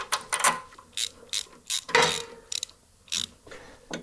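Close ratchet clicking in short bursts while cylinder head bolts are tightened down on a 1939 engine, uneven rhythm of quick mechanical ratcheting strokes with small pauses between.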